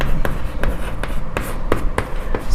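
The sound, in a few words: writing an answer with a pen on paper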